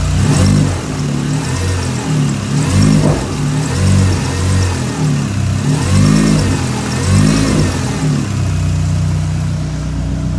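An SRT4 car engine runs steadily and revs up and down in waves, with a thin high whine from a faulty belt tensioner riding above the rumble throughout.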